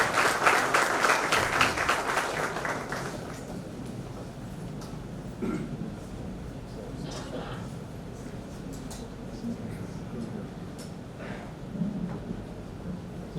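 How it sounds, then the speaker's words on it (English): Audience applause at the Aurangabad Bench of the Bombay High Court, welcoming the Chief Justice: a loud burst of clapping at first, then fading into softer scattered claps under room murmur and faint voices. "Please join me in welcoming him with a warm round of applause."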